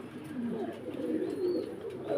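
Pigeons coo softly and continuously, a low burbling murmur with no one speaking.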